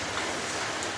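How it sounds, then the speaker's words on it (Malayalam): Heavy rain falls in the background as a steady, even hiss of moderate loudness, heard briefly and alone with no voices. "മഴ പെയ്യുന്നുണ്ട്, നല്ല മഴയുണ്ട് ബാക്കിൽ."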